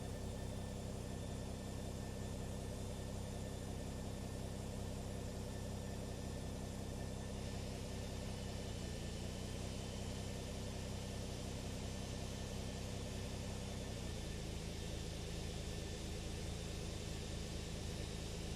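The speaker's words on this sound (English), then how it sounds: "Okay, engine 1's firing." Toliss A321 airliner engine 1 spooling up during start in the X-Plane 12 flight simulator, a steady loud broadband whine and rumble with a continuous hum that shifts slightly in pitch partway through, no talking.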